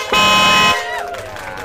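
Motorcycle horn during an electrical setup check, one loud steady toot of about half a second, then a fading tone over nearby background voices.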